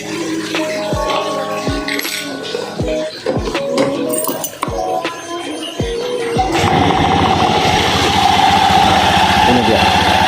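An automatic scooter engine idles steadily, with clicks and metallic clatter early on before the engine note grows louder and denser, running close by throughout.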